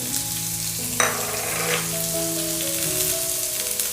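Dried red chillies and ginger dropped into a pan with onions for mint thogayal, a loud steady sizzle with a sharp burst and stirring partway through, over a low background hum.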